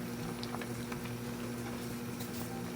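Vegetables for shrimp sinigang simmer at a steady boil in a covered pot, a constant close bubbling hiss with a low hum running beneath it and no talk.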